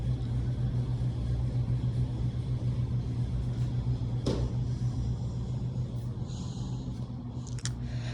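A car drives to school with a steady low engine rumble and road noise throughout, plus a couple of brief clicks or knocks, and no talking.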